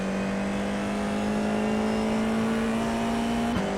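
An F4 race car on a qualifying lap at Spa in the iRacing sim, its engine holding a steady, high droning note that dips briefly near the end; no voices.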